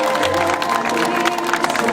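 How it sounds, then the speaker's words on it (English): A crowd at an army open house show applauds the soldiers, dense clapping and cheering mixed with loud background music and hum for a couple of seconds. "A round of applause."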